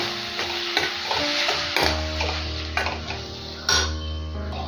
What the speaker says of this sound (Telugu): ఉల్లిపాయలు బాగా ఫ్రై అయిపోయాయి కదా, ఇప్పుడు టమాటాస్ యాడ్ చేసుకుందాము.